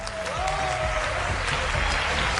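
A studio audience on a Pakistani Ramzan game show claps loudly and steadily throughout, a dense, close wash of applause with a voice faintly underneath.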